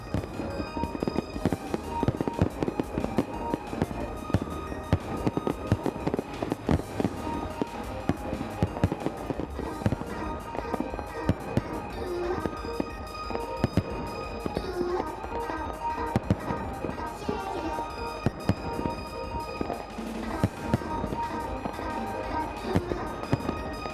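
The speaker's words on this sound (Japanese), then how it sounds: "片物の花火ですね。" Fireworks burst continuously in a dense, crackling barrage of sharp pops and booms, loud and sustained for the whole stretch, with a crowd murmuring faintly underneath.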